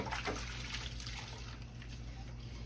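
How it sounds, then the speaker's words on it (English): Hands are washed under running water at a kitchen sink, a faint, steady trickle and splash heard alone for a few seconds. "Okay, wash my hands right quick."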